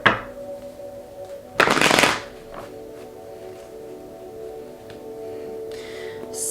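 Tarot deck being shuffled, a short flurry of riffling card flicks in the middle of a quiet room, with a few soft taps before and after.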